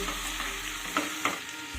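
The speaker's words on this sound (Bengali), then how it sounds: "এবার চিংড়ি মাছটাকেও কিন্তু এর সাথে মিশিয়ে দেব" Fried prawns being stirred into a green jackfruit and potato curry in a pan, with a continuous close sizzle and two distinct scraping stir strokes against the pan, no voices.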